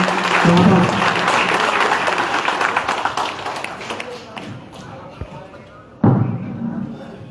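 Loud applause from a political rally crowd at Pyali Chowk in Faridabad, greeting Chaudhary Krishan Pal Gurjar as the main speaker, dense and sustained, fading toward the end before a sharp renewed burst.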